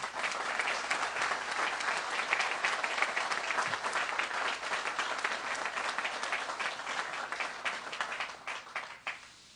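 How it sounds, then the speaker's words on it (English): An audience at the opening of a new AeroFarms facility in Danville gives the team a round of applause: many hands clapping in a dense, steady patter that thins and fades out at the end. "So won't you guys give them a round of applause, please."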